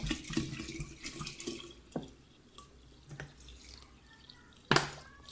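Water poured steadily into a homemade hawthorn vinegar mixture in a container, a close, continuous liquid stream with dripping and a few sharp splashes, no voices.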